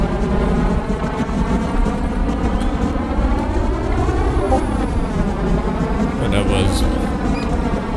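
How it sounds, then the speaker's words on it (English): An aircraft takes off in the Trailmakers video game, its loud droning engine holding steady with a slowly rising and falling pitch over several seconds, continuous and close. "Somewhat of a good takeoff."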